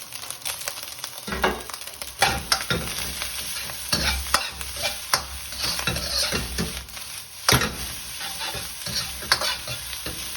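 Vegetable Singapore fried rice with fresh chili stir-fried in a wok, giving a steady loud sizzle with repeated scraping and tossing strokes throughout, no talking.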